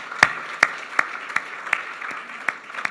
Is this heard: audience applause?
yes